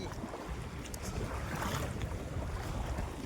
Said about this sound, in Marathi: चला तर आपली बोट आलेली आहे